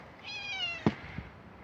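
A house cat gives a single clear, rising meow close by, followed by a couple of soft thumps in a quiet room.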